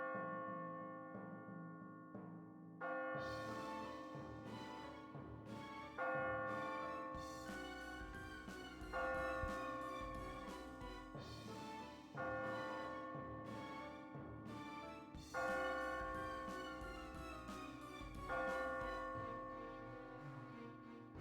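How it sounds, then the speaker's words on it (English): A church bell tolls in slow, regular strikes, each ringing out and decaying before the next, a long sequence of resonant chimes heard alone without speech. "My apologies for the ringing bell."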